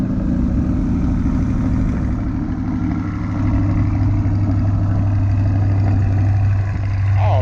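A Chevrolet C8 Corvette engine runs at a steady, deep idle close by, a continuous low rumble holding level the whole time with a slight rise near the end.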